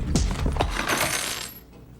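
A set of keys dropped onto a table, a bright metallic jangle and clatter that rings briefly and fades.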